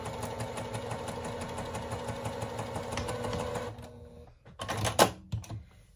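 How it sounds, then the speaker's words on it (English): A sewing machine backstitches a quilt seam with a fast, steady mechanical whir for several seconds, then stops, followed by a few soft clicks and handling noises. "I'm gonna back stitch here like I always do, just to make sure that my seam is secure"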